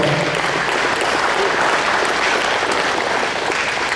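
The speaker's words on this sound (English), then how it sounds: "Let's give Scott a round of applause as well" A room at a Laurens County touchdown club meeting breaks into sustained applause, an even wash of clapping hands from a moderate-sized crowd lasting about four seconds.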